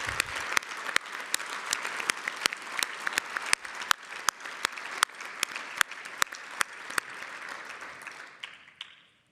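An audience claps steadily for several seconds with sharp individual claps standing out, then the applause quickly fades to silence.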